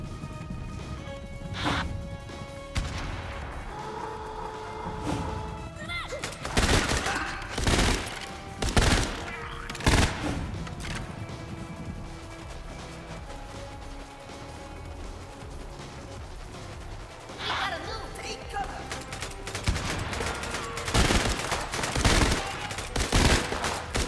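Enemy gunfire in the Tiny Troopers Global Ops PS5 game: dense bursts of shots and explosive impacts over a continuous game soundscape with music, loud throughout, with clusters of sharp cracks around the middle and end.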